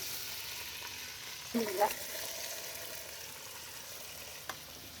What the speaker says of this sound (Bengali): চাউলগুলো হচ্ছে আগে ভালো করে কষাই নিব।